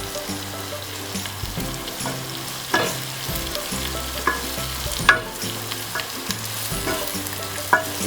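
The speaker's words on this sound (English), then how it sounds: "Then I'm adding my Ukpaka to the onions and red oil" Ukpaka frying in hot red palm oil with onions, a steady close sizzle with repeated stirring scrapes and a few sharper clinks, no talk.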